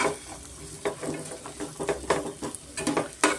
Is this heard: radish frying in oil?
yes